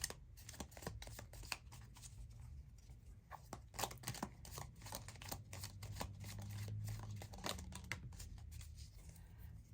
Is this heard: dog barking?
no